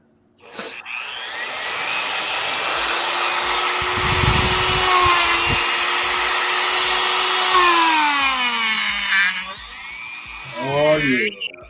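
A Dremel rotary tool grinds a plastic action figure, whining loud and high for about nine seconds with shifting pitch as it bites, then a brief second burst; a voice talks over it.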